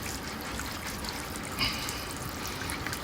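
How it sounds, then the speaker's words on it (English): Water running steadily from a hose into an RV drain during cleaning outdoors, a faint continuous splashing trickle with a slightly louder spurt midway. "I have the water running and it's starting to shoot in my face"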